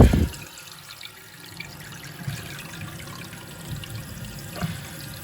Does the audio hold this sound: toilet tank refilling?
yes